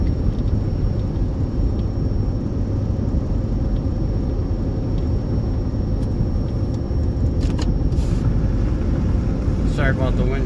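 A 2010 Dodge Grand Caravan with a repaired frozen rear brake drives on a road, heard from inside as a loud, steady low engine and road rumble throughout. Near the end there are a few faint clicks.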